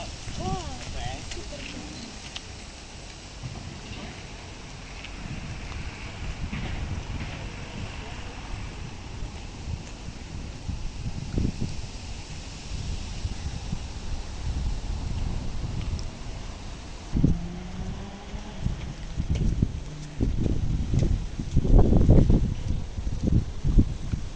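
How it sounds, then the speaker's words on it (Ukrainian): Wind gusts rumble and buffet against the microphone throughout, growing rougher near the end, with brief voices heard at times. "Але вітер, ай."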